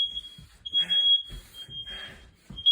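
A household smoke alarm sounding at night gives a steady high-pitched electronic tone that keeps running, with brief breaks. Several people talk over it throughout.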